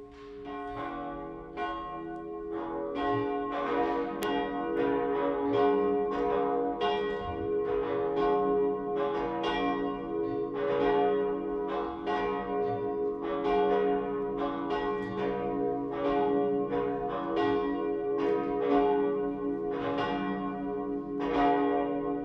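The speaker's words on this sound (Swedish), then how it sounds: "Låt oss nu lyssna till klockringningen." Cathedral church bells peal continuously during a Sunday high mass, a rich overlapping ringing of several bells in steady rhythm, loud and sustained with no voices.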